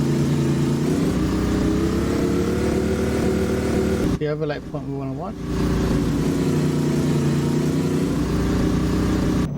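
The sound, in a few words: Ford 534 ci V8 engine revving, American Truck Simulator video game mod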